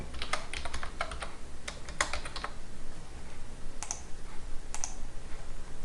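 Fast bursts of typing on a computer keyboard while filling in a Revit title block, crisp close key clicks in quick runs with a short pause, then a few final taps, no talking.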